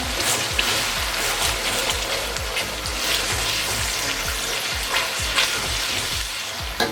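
Yogurt is stirred into sizzling biryani masala in a pot, with steady loud frying crackle and repeated scraping stir strokes throughout, no voices.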